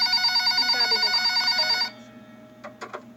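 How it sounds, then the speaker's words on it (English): A telephone on a store counter rings in a steady, loud trill for almost two seconds, then stops, leaving a low room hum and a few short clicks. "About an hour later, the phone on the counter rang."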